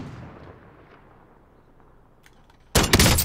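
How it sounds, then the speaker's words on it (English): A sudden loud burst of gunshots from Call of Duty Warzone erupts near the end after a quiet, fading stretch, close and sharp. "Oh, 3 shots."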